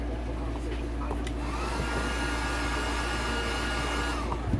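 A heat gun blows a steady, close airflow hiss across a graphic decal on a YZ125 motorcycle, continuous and unbroken throughout.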